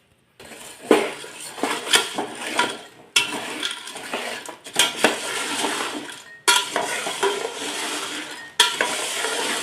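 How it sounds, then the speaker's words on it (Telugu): A spoon stirs and scrapes inside a metal pot of jaggery syrup cooking down on the stove for sweets, with bursts of clattering strokes separated by brief pauses and a soft bubbling sizzle underneath. "ఇలా కలుపుతూ ఉండాలండి పాకం వచ్చేంత వరకు"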